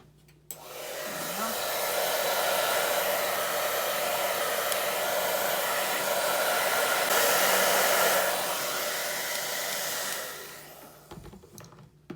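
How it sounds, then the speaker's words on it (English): A hair dryer switches on and blows with a steady, close whooshing hum for about ten seconds, drying paint on a coffee cup, then cuts off. "I'm gonna hit this with a little bit of a hair dryer"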